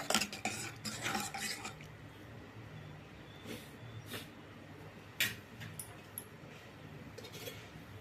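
A spoon stirs and scrapes sambar around a metal pot, with clinks and scraping strokes, busier at first, then sparser taps against the rim.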